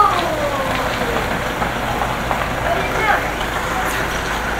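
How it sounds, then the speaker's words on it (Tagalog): Heavy rain pours steadily during a motorbike ride, a dense, loud hiss that stays constant throughout, with a voice faintly audible beneath it. "kahit yung lakas ng ulan, tinuloy pa rin namin"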